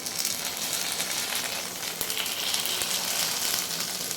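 Katori papad frying in hot oil produces a steady, close, bright sizzle with crackling pops throughout, and no voices.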